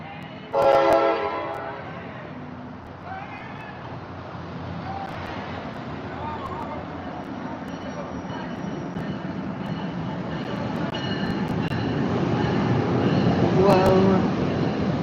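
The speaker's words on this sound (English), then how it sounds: "Morristown line train, and it's all Comet." An NJ Transit Morristown Line train made up of Comet passenger cars rolls past at Secaucus, New Jersey, giving a steady broadband rumble that slowly swells toward the end, with a brief sharp burst near the start.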